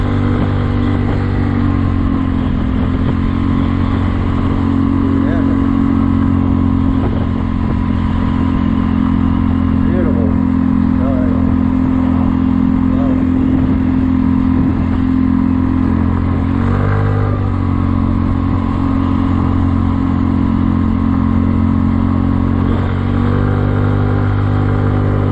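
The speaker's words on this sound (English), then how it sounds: "Sounds like my scooter here." A Kymco People 250 scooter with its exhaust leaks sealed using high-heat epoxy revs steadily, producing a loud, continuous engine drone with rising and falling throttle blips and no talk over it.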